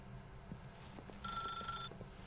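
A telephone rings in the video game The Stanley Parable, a single bright electronic ring lasting under a second amid quiet room ambience with faint soft taps, fairly clear but not loud.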